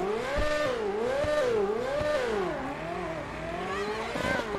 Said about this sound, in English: And also it got the pops from the exhaust